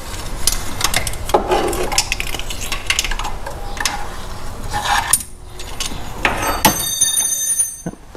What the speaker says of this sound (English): Make sure to drop your wrench on top of the transmission so you'll never see it again.